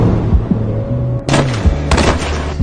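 Gunfire in a movie scene, with two sharp, loud shots about half a second apart cutting in over a low background drone.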